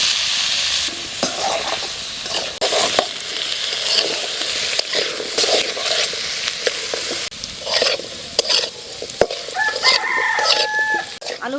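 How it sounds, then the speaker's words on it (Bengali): Potatoes fry in leftover fish-frying oil, a steady sizzle with spatula stirring and scraping in the pan, while a rooster crows in the background near the end. "মাছ ভাজা তেলে আলুটা ভেজে নেব"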